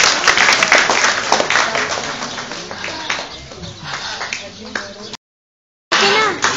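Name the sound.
audience applause at a parrot show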